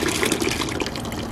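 Coolant pours into a school bus radiator in a steady, close, splashing gush of liquid that lasts the whole short moment with no talking.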